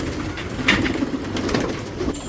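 Pigeons coo softly in a cramped rooftop loft, a few low, throaty calls rising over a quiet room tone, close by and fairly gentle, with no voices.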